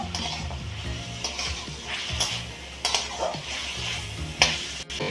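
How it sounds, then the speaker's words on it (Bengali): Chicken frying in a pan for mixed fried rice sizzles steadily up close, broken by scraping stirs and occasional metal clinks of a utensil against the pan. "হালকা গোল্ডেন করে একটু ভেজে নেব দেখুন আমার চিকেন থেকে কিছু জল বেরিয়েছে জলটাকে আমি মেরে দেবো শুকিয়ে নেব"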